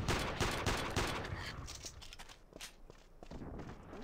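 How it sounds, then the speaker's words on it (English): Scattered gunshots crack and pop across a battlefield in the video game Iron Storm, with irregular bursts of varying distance and steady background noise and no talk. "Get shot at some more."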